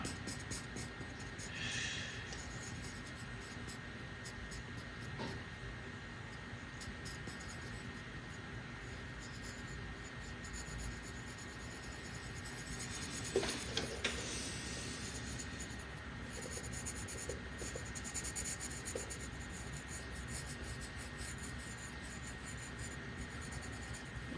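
Pencil shades a drawing on paper with quiet, steady scratching strokes and a few louder scrapes near the middle, all faint against a low background hiss.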